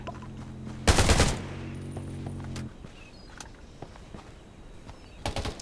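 Gunfire in the Undawn video game aimed at a house: a loud, dense burst of rapid automatic shots, then a fainter stretch of sustained firing and a second short burst near the end, with no talk.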